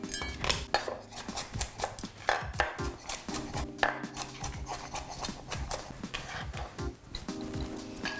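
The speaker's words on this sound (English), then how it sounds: "I'm going to mash up some garlic the old-fashioned way with my knife." Garlic mashed and chopped with a kitchen knife for Korean kimchi, rapid close knocking of the blade against a cutting board in an irregular rhythm, fairly loud with no talking.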